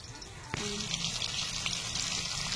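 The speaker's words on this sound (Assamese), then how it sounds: "মাছ ভজা কেৰাহীখনতে পিঁয়াজ দি ভাজি লৈছো" Onions fry in oil in a wok already used for frying fish, giving a steady close sizzle after a sharp clatter as they go in, with faint kitchen sounds around it.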